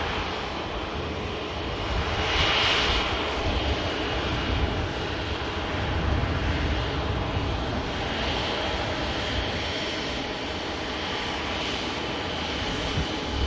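Airbus A350 jet engines roar steadily on the runway at Manchester Airport, a loud, continuous broadband rumble with a whining tone that swells slightly as the aircraft moves, heard alone without talk.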